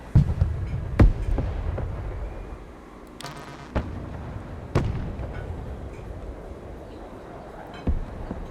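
Artillery fire in the video game Broken Arrow, with distant booming shell impacts landing at irregular intervals, several sharp blasts standing out over a low continuous rumble.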